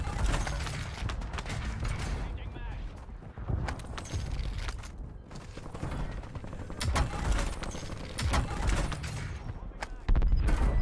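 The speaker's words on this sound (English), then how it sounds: "Changing mags." Battle royale video game gunfight, dense continuous gunfire and mechanical rattling of a weapon magazine being swapped, close and loud with steady background game noise throughout.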